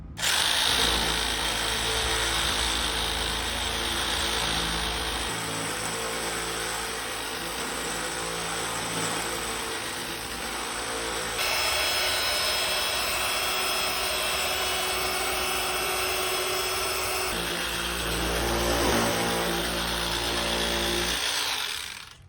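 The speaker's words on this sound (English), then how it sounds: "Gonna switch this to inline sanding." Electric sander sands wood on an antique secretary desk, running continuously with a loud buzzing whir, its tone shifting several times as pressure changes against the surface.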